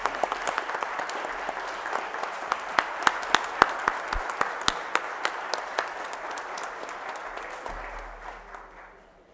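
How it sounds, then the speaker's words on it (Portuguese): A solemn legislative session awarding the Tiradentes Medal fills with a steady round of crowd applause, lasting several seconds with sharp individual claps standing out before the clapping thins and fades away near the end. "A salva de palmas, gente."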